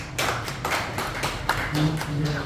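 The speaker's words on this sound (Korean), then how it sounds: "엄세천 박사님께 크게 박수 좀 부탁드리겠습니다." An audience at a Lions club academy monthly meeting clapping to welcome a guest speaker, a brief burst of irregular, fairly close claps with a murmur of voices and some low tonal sound beneath.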